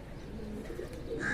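A pigeon coos nearby, a soft low murmuring call over a light background hum, short and unaccompanied by speech.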